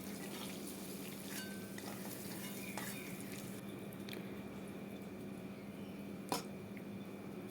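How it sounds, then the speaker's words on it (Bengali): Soaked soya chunks fry with a soft, steady sizzle in a pan while a utensil scrapes and taps a few times, one sharper knock near the end, with no one talking. "এবার সয়াবিনগুলো আমি ভালো করে ভেজে নেব।"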